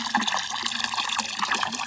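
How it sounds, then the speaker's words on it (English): Water rushing and splashing steadily from a refill station tap outdoors on a chilly Spanish hillside, a continuous bright gush filling a container close by. "Water refill station."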